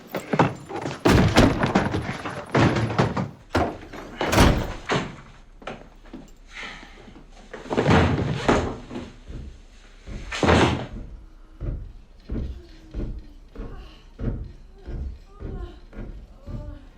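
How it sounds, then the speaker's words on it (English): A door is handled with several loud thumps and clunks, like it being opened and knocked against its frame, in irregular bursts that fade toward softer rustling. "You open the door."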